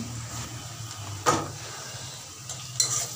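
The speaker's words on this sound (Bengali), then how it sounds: "পেঁয়াজটা একটু ভাজা হলে তারপরে দিয়ে দেবো আমি রসুন।" Onions sizzle in a pan for a spinach, shrimp and potato dish, a steady close frying hiss broken by two sharp clinks of a utensil against the pan.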